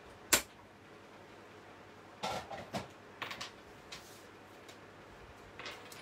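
Small paper sentiment piece for a handmade card being trimmed, a sharp snip followed by a few quieter, scattered cuts and taps, close and faint in a quiet room.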